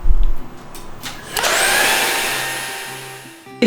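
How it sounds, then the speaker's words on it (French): A Buture cordless vacuum cleaner in a Montreal condo starting up with a clunk and settling into a loud steady whine, close by, which fades slightly before a final knock, with no voices. "Pour l'aspirateur, j'ai pris un Buture et je suis vraiment très contente."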